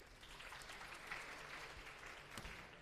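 Students in a mathematics lecture class give a short round of applause, faint and somewhat distant, a steady patter of many hands that holds evenly for a few seconds.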